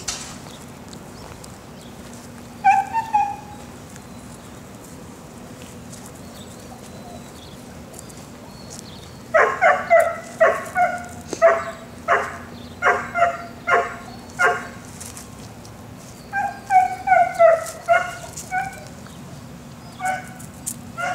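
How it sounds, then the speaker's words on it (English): A small dog barks in quick bursts, a short pair early, then a long run of sharp, rhythmic yaps and a final cluster, close and clear over a quiet background. "He's a cute little doggy."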